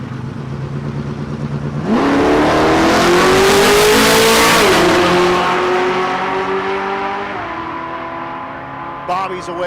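A Chevrolet Nova and an Audi launch side by side at a dragstrip in Great Bend, engines bursting from idle into a loud, rising full-throttle roar that holds for several seconds, shifts, then fades into the distance.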